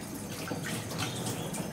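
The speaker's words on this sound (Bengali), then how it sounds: "হাতটা ধুয়ে নিলাম" Tap water runs steadily into a sink while hands are washed in a home kitchen, a continuous close splashing hiss with no talking.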